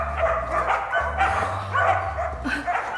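A dog gives a few short barks and yips at mid distance, with a steady low hum and faint background voices beneath.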